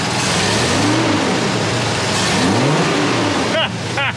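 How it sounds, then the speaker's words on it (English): A Ford Bronco II engine fitted with Holley Sniper EFI revs loudly and close by, rising and falling twice in strong sweeps over a steady idle roar, with brief voices near the end. "But once it started, give it a rev."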